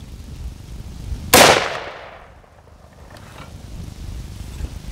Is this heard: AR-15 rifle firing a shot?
yes